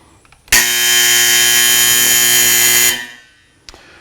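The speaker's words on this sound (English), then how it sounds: "the buzzer will go off" A loud, harsh electronic buzzer at a shooting range sounds one continuous blast of about two and a half seconds to signal a change of range state, then cuts off, followed by a faint click.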